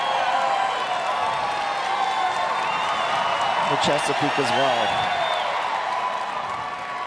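The audience at the 150th Westminster Kennel Club Dog Show Best in Show round cheering and applauding, a sustained roar of crowd noise with whoops beneath a commentator talking throughout.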